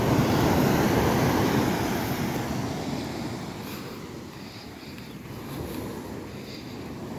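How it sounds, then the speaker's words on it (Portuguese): Ocean waves wash onto the beach at São Miguel do Gostoso in Brazil, a broad steady roar of surf mixed with wind noise across the whole stretch. "as ondas vêm até aqui"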